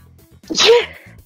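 A single sharp sneeze bursts out close by during a tabletop wrestling role-playing game session, loud and brief against quiet background chatter.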